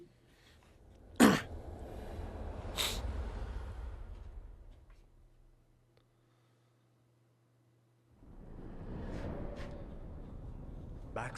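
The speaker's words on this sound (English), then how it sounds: "Sneeze and blow out the candles." A character sneezing in the game Dragon Age The Veilguard: one sharp sneeze burst followed by a second softer one, close and distinct over a low ambient hum, then silence before background sound returns.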